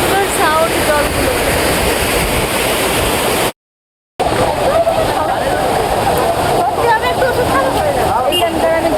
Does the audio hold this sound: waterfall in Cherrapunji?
yes